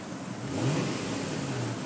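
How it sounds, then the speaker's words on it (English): A 2003 Toyota Tundra SR5 pickup truck engine revs briefly, rising then settling into a steady mid-pitched hum, heard up close. "Let you guys listen to the engine here."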